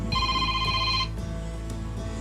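Telephone ringing with a bright electronic trill lasting about a second, then fading into a quieter room hum.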